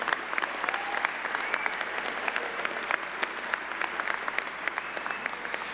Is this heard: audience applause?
yes